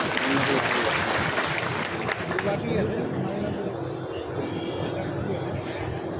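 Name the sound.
audience applause welcoming a speaker at a rally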